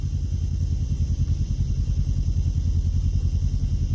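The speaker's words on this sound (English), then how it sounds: "This is a four-wheeler here on our left." A four-wheeler ATV rumbles along the Las Vegas Strip, a steady low, throbbing engine drone mixed with street traffic noise, continuous and moderately loud with no voices.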